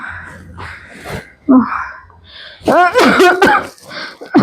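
An unwell elderly woman coughs several times in rough, harsh bursts mixed with strained, moaning vocal sounds, loud and close, with short pauses between the fits.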